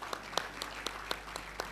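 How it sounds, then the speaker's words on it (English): Audience at the 2025 Africa Conference claps faintly in an even, steady rhythm of about seven sharp claps. "I'm happy you clapped"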